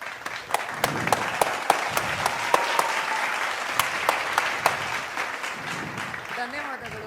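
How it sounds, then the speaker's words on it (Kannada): A reality-show studio audience applauds, a dense close patter of clapping with sharp individual claps standing out, steady for several seconds before thinning toward the end. "ಈ ವಾರದ ಕಿಚ್ಚನ ಚಪ್ಪಾಳೆ ಅಶ್ವಿನಿ ಗೌಡ ಅವರೇ ನಿಮಗೆ."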